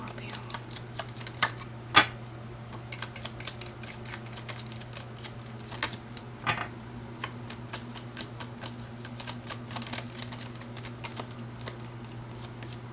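Tarot cards being shuffled by hand, a steady patter of soft riffling clicks and flutters with a few sharper snaps, quiet and close in a calm room.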